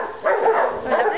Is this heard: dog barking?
yes